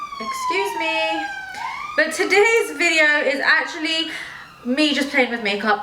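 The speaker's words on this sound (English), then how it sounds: "Sorry about the siren outside" An emergency vehicle siren wails outside, a faint gliding tone heard indoors beneath someone talking steadily close to the microphone.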